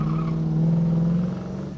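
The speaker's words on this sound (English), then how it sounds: "We'll give it a little RPMs here." A 1972 Ford Maverick engine is revved from a standstill, giving a steady, loud low drone with rising harmonics that holds for about a second and then eases off slightly. No one speaks.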